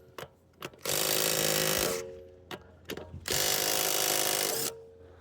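A ratchet loosening the lug nuts on a 2023 Honda Pilot: two long bursts of rapid clicking, each preceded by a few sharp taps and clanks, close and clear with no speech.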